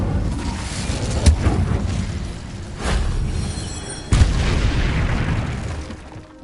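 An Incendio fire spell in Hogwarts Legacy goes off as several deep booming blasts, each a sudden loud thump followed by a roaring rumble, spaced a second or so apart.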